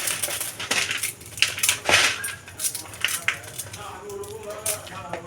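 Dry Maggi noodles crushed by hand for Maggi pizza, a close run of crisp, irregular crunching and crackling snaps that comes in bursts and then thins out into lighter rustling.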